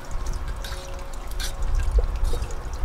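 Water pours and trickles as dirt is washed into a GOLDROP magnet sluice, an uneven splashing flow with drips and a faint steady hum underneath, close by and without speech.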